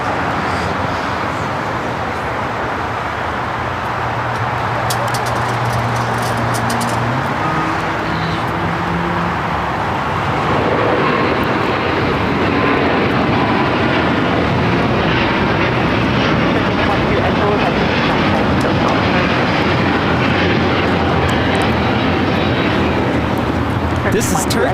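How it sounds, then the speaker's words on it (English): Turkish Airlines Airbus A350-900 taking off at LAX, its engines roaring loudly and building into a broad, sustained rumble that swells about halfway through, with a voice talking over it early on. "This is Turkish Airlines Flight 180 taking off to Istanbul on the A350-900."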